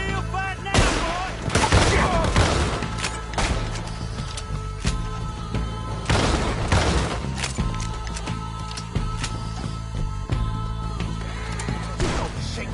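Gunfire crackles through a shootout in Red Dead Redemption 2, with loud clustered volleys of shots bursting repeatedly over about thirteen seconds amid a continuous din of battle noise.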